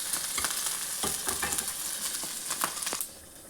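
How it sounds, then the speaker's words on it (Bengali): Onions, ginger and green chilies frying in hot oil, a steady close sizzle broken by scraping stir clicks throughout, with the sizzle dropping away near the end. "এগুলো একটু লালচে করে ভাজবো।"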